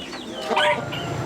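A group of chickens carried together, their clucks and squawks rising briefly in a short burst, fairly close, over a busy background.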